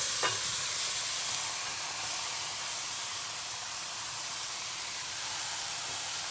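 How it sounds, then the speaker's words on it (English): Goat meat and curry powder sizzle in very hot oil while being stirred by hand for Jamaican curried goat, a steady bright hiss with faint stirring, no talking. "I'm about to put in the curry powder mix and that sizzles, you know the oil is really hot."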